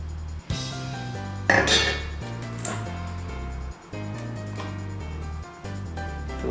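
Coffee grounds are stirred in an Aeropress, with close, bright clinks and scrapes of a utensil against the brewer set over a low steady hum, several distinct knocks spread across the stretch.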